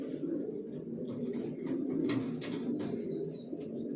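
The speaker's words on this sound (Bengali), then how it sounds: "ছাদেও কবুতর আছে" Pigeons coo from a rooftop loft where racing pigeons are kept, a steady low murmur of overlapping coos with a few brief chirps above, constant and fairly close throughout.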